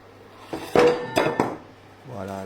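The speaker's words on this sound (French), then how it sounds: "Voilà, la casserole, je l'ai laissé tomber." A metal saucepan clatters onto a hard surface with a few sharp bangs and ringing clanks, then settles into a low hum.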